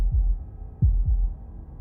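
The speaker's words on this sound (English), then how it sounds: "That was the sound of a heartbeat" Heartbeat in the game Slay the Princess: a few deep, muffled thuds in an uneven pair-like rhythm, close and heavy, over a quiet low drone.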